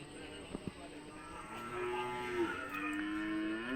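Cattle and bullocks lowing in long, drawn-out moos, one after another over a steady outdoor background at a cattle market, moderately distant.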